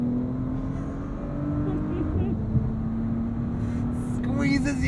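Bentley Flying Spur Speed with W12 engine accelerating under full throttle, a steady droning engine note rising in pitch from inside the cabin, with faint talk near the end.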